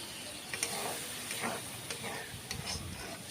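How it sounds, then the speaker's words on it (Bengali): Spice paste (masala) for a ghugni made with mutton fat, stir-fried in a pan over a medium gas flame, giving a quiet, continuous sizzle and hiss with soft scraping stirs throughout. "এবার আমি গ্যাস মিডিয়ামে রেখে এই মশলা খুব ভালো করে কষিয়ে নেব।"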